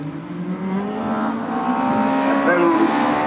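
A rally car blasts past on a Rally of the Lakes stage near Glencar, Ireland, its engine note rising and howling loudly as it approaches and goes by, with a commentator's voice underneath.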